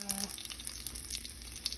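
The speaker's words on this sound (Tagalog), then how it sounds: "We put oil on our pan. First thing is to put our ginger." Ginger sizzles and crackles in hot oil in a pan, a faint, steady hiss with small pops, and a brief low tone at the start.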